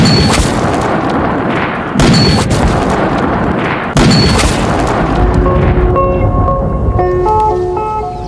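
Rifle shots ring out at long-range shooting practice on open land, three loud booms spaced about two seconds apart, each with a rolling echo, followed by faint tonal ringing.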